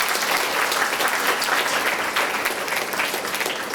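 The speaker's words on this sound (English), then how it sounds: "Can we give a round of applause?" Loud, steady applause from a large audience, dense clapping filling the whole stretch without a break.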